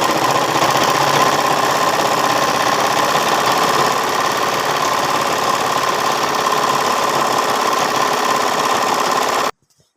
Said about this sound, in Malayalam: അപ്പം അങ്ങനെ ഒരു മടക്കിൽ ഇങ്ങനെ തയ്ച്ചു കൊടുത്ത് പോകും.